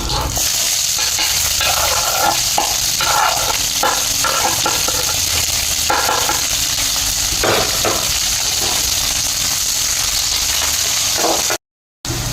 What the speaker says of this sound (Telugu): రెండు రెమ్మల కరివేపాకు, వేసి పెట్టుకున్న ఆనియన్స్ పచ్చిమిర్చి వేసుకుంటున్నా